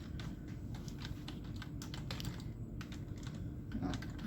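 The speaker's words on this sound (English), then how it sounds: "Oh, I'm having a good time today with my typing." Rapid keystrokes patter across a computer keyboard, an uneven stream of light clicks over a low steady background hum.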